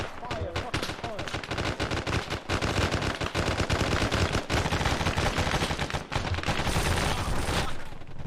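Heavy gunfire in a military video game firefight on a hill, with dense bursts of machine gun and rifle shots rattling continuously and loudly throughout.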